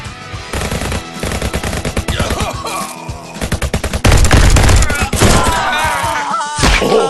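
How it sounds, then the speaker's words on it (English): Rapid bursts of .45 caliber revolver gunshots in the BulletProof VR shooter game, loud and close, firing in quick dense volleys over a musical backdrop with a heavier booming stretch toward the end. ".45 caliber babies sure could"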